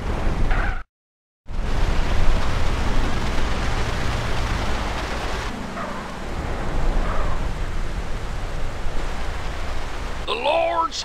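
Heavy rain hisses in GTA San Andreas as a loud, continuous wash of noise that cuts out for a moment near the start, with low rumbles beneath and a voice coming in briefly at the very end.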